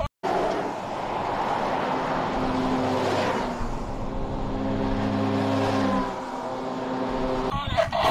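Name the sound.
toy army car switched on, making sounds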